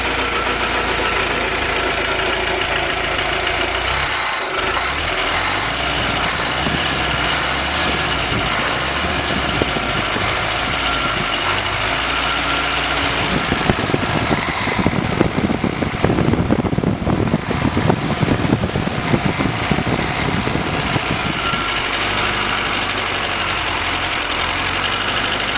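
An old Willys F-head engine fitted with a Weber carburettor starts up and settles into a steady, loud idle nearby, its lumpy mechanical chug and knock running continuously with a brief surge partway through.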